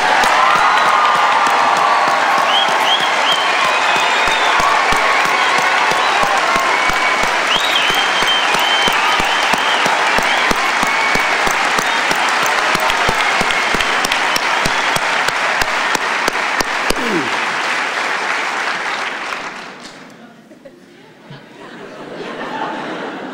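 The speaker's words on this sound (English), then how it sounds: "how about giving these Americans a real humdinger of an applause?" Large audience applauding and cheering at a talk by an archbishop, loud continuous clapping with whoops and some laughter for nearly twenty seconds before it dies away abruptly.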